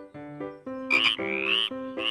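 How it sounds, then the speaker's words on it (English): A cartoon frog croaks in a children's phonics song, with several bright, tonal croaks played over a steady musical backing and no talking. "F for frog."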